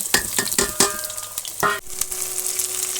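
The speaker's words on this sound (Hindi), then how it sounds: "अब मैं ये तेल गरम कर रही हूँ। इसमें कटी हुई प्याज डालूँगी" Chopped onion dropped into hot oil in a home kitchen, cooking spinach and potato: a steady close sizzle and hiss, broken early by several quick stirring scrapes, with no voices.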